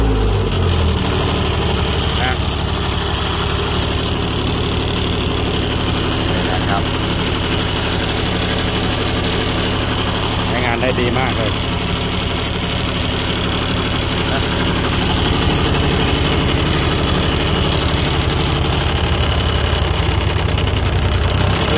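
An old Japanese three-cylinder diesel generator welder idles at low throttle, a loud steady knocking rumble close by, with someone talking over it.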